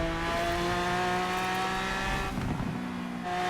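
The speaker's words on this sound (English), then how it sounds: "I love just hearing like an engine that just screams at the top of the RPMs" A Lamborghini Aventador's engine screams near the top of its rev range in Forza Horizon 4, a loud sustained high-pitched whine with harmonic tones, briefly dipping and shifting before climbing again.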